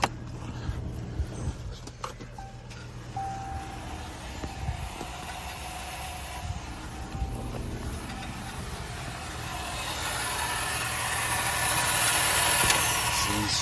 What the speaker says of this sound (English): this is what it sounds like when you're trying to start